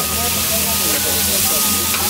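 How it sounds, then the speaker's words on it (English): Hamburgers frying on a hot surface, a loud, close, steady sizzle and hiss filling the whole moment. "he's the one making the hamburgers right now"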